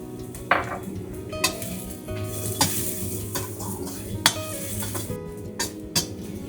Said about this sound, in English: For the remaining oil, stir-fry minced garlic until golden.